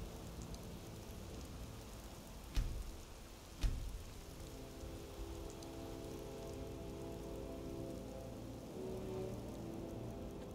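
Steady heavy rain drums on surfaces during a thunderstorm, broken by two sharp close cracks early on, then a continuous wash of downpour with a faint low hum underneath.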